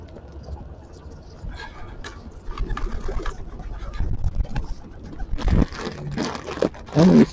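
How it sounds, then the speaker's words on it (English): A flock of pigeons crowds in to be fed peanuts, with close, loud cooing and fluttering building up over low background noise, along with bursts of wing flapping and scuffling. "So many pigeons. Too many pigeons"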